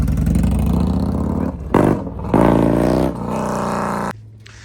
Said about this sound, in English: The tire's spinning.